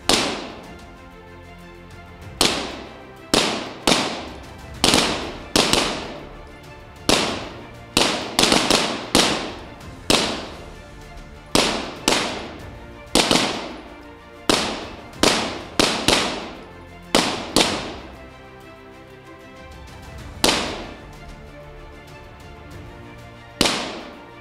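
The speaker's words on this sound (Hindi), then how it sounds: "अपने टाइम में अपने टारगेट पर 10 राउंड नंबरिंग फायर" Punjab Police officers fire ten rounds at targets on an outdoor firing range, heard as loud, sharp gunshots with echoing tails, spaced irregularly and sometimes in quick clusters, with no talking between the shots.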